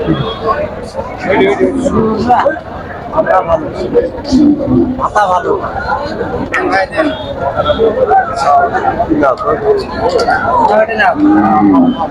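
Cattle at a crowded livestock market (cattle haat) lowing now and then amid constant loud crowd babble, with people talking close by throughout.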